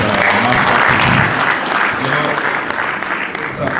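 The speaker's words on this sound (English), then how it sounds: "please, a round of applause to the producers of this great" Audience applause for the producers at a panel evening on Ebrohimie Road, a museum of memory: dense, loud, sustained clapping from a crowd filling the whole stretch, easing slightly toward the end.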